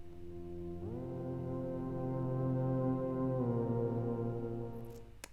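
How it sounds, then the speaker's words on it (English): A Dreadbox Typhon synthesizer plays a sustained, harmonically rich tone that swells in and shifts pitch partway through, steady and close with no one talking, before fading out at the end. "So you're going to hear the Dreadbox Typhon doing this."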